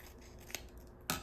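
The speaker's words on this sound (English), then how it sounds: "And then I like to just cut the little corner off." Scissors snip the corner off a dressing packet in two quick, close cuts, faint overall against a soft background hiss.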